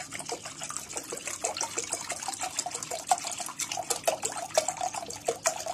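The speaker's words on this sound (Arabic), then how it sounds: "نجيب حلة وننزل فيها لتر لبن" A liter of milk is poured into a cooking pot for an oven-baked caramel muhallabia, a steady close gush of liquid with small splashy ripples that lasts throughout.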